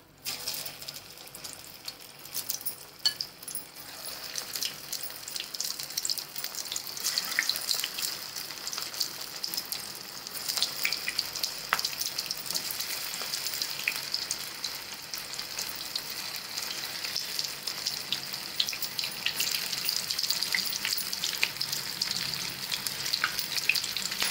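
Bread pakoras deep frying in hot oil, a second batch cooking with a steady bubbling sizzle and scattered small crackles, moderately faint and continuous throughout with no talking.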